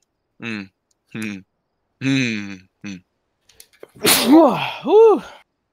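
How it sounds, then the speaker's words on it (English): A single sharp sneeze bursts out close to the mic during a gaming session, following a few short spoken phrases from the same person. "Sneeze."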